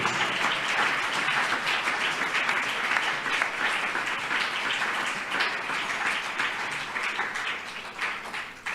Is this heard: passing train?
no